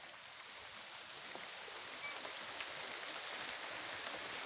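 Steady rain patters softly on a surface, a faint, continuous hiss of drops with no voices.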